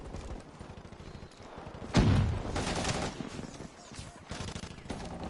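Gunfire in a Call of Duty match on the Nuketown map, with dense bursts of shots and a loud, heavy volley partway through before the firing rattles on at a steady level.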